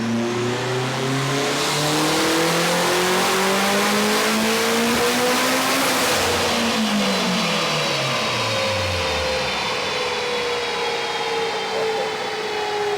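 A turbocharged 8th-generation Honda Civic engine winds up on a dyno in one long, loud rising pull, then drops off as the revs fall away, with no talking.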